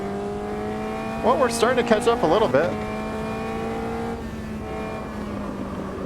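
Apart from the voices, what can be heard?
race car engine in Automobilista 2 racing video game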